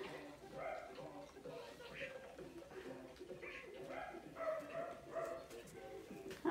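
Several small puppies yipping and whining in quick overlapping bursts, close by, with a steady background murmur.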